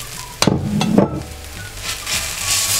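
Vegetables hit a pan of frying noodles with a couple of sharp clattering knocks, then settle into a loud, close, hissing sizzle.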